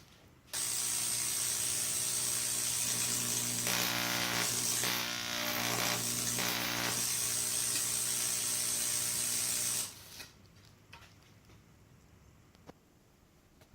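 A classroom Tesla coil set up on a table discharges with a loud, continuous buzzing crackle lasting about nine seconds, then cuts off abruptly, leaving a quiet room.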